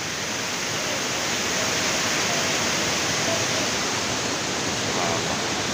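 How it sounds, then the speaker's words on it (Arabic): The Ouzoud waterfalls in Morocco roar with a constant, broad rushing of water, loud and unchanging throughout. "شلالات هاواي"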